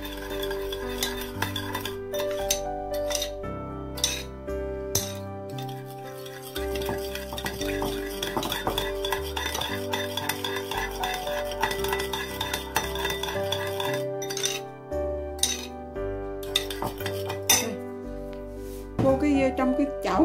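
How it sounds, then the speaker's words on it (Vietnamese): Spoon stirring fish sauce and sugar in a bowl, with steady scraping and clinking strokes that run on and on, close and clear, under a voice talking throughout. "Rồi mình quậy đều. Mình quậy cái nước mắm này cho nó hòa,"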